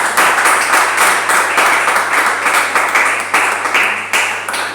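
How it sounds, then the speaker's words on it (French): A church congregation applauding together to acclaim the Lord after a prayer, with loud, steady, close crowd clapping that carries on throughout. "On acclame le Seigneur."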